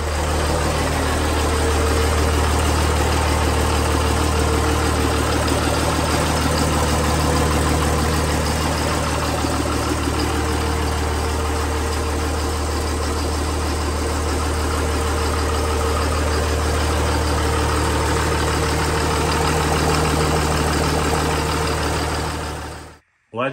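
A Cummins 12-valve diesel engine in a truck fires up after a rebuild and idles steadily. The loud, dense low rumble runs unbroken for about twenty seconds, then cuts off abruptly.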